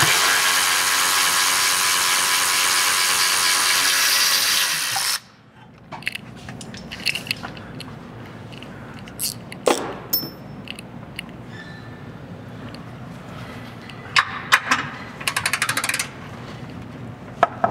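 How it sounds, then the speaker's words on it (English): Wrench spinning a suspension bolt on a 2018 Ford Raptor during a suspension install: a loud steady whirring run for several seconds, then a pause followed by scattered close metallic clicks and clinks. "He's holding the wrench on the inside of the bolt while I spin it."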